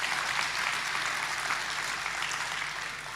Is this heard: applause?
yes